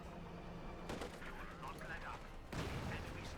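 Heavy fire from a flak panzer in Company of Heroes 2, dense rapid bursts and booming reports rolling under continuous talk, with a fresh burst of firing near the end.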